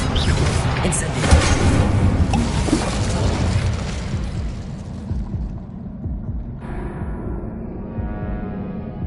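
Fire spell Incendio cast in the video game Hogwarts Legacy, heard as a loud, dense burst of booming, crackling flame that roars for several seconds and then thins into a lower, steady rumble.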